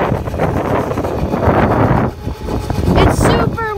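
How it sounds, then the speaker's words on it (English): Strong wind blasts across the microphone with loud, continuous rumbling and buffeting, briefly easing midway before gusting again outdoors near a boat. "It's super windy."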